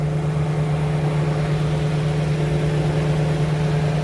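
Nissan 350Z with a largely stock engine bay, idling in a steady, even hum with a low drone and no revving, running alone throughout.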